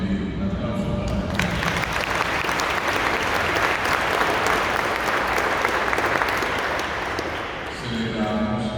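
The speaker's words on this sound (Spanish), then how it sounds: "Un aplauso para él." Loud, sustained applause from a large church congregation welcoming a priest at the start of Mass, a dense wash of clapping that swells and holds for several seconds before tapering off near the end.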